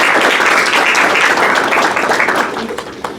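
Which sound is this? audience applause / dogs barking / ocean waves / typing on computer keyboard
audience applause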